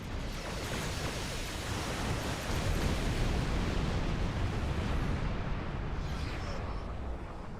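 Rapid starship cannon fire in the space game Star Trek Online, a dense, continuous roar of blasts and bursts that stays loud and unbroken throughout, with no talk over it.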